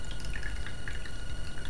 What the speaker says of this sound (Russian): Дольем воды.